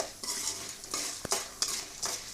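A spoon scrapes and stirs lentils frying in a pan over a steady sizzle, with a sharp metallic knock midway, heard close with no talking.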